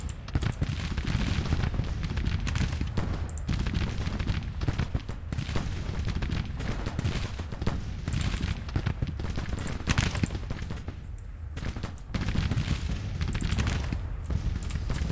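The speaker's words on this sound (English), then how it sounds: "Wow, all that artillery, it's right there." Artillery and musket fire roar through a Civil War battle game at the First Battle of Manassas, a continuous barrage of booms and crackling volleys, loud and dense with only brief dips.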